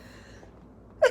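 A single short sneeze bursts out at the very end, close and sharp, following a quiet stretch of faint room tone during a live chat.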